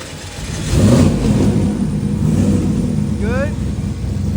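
A turbocharged car engine revs hard toward 9,000 RPM on a dyno, a loud, sustained roar with a short rising whine near the end as the boost builds.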